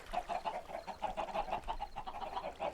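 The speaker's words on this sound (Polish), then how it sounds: "Bardzo dużo tych kur tutaj jest." Many Minecraft chickens cluck together in a cellar, a steady, faint, overlapping chatter of rhythmic clucks that never stops.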